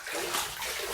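Rinse water pours and splashes into a bathtub in one brief, loud, close rush.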